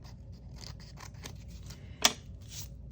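Scissors trim paper for a junk journal page, a few soft snips and one sharper cut near the end, close and quiet with no talking.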